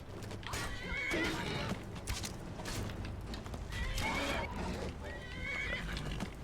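A horse neighs loudly twice in Skyrim, shrill whinnies rising and falling, with clip-clop hooves and background game noise throughout.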